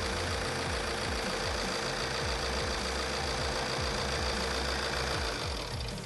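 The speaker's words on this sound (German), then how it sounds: "Dafür schalte ich jetzt den Motor aus." A common rail diesel engine idles with a steady, rhythmic knocking chug, loud and close, then begins to fade as it is switched off near the end.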